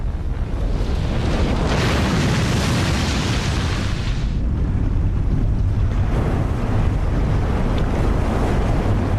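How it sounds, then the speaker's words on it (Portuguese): A huge ocean wave surges with a continuous, loud roaring wash mixed with wind. It swells briefly, then rumbles steadily on with no voices. "seguido de um gigantesco e implacável vagalhão"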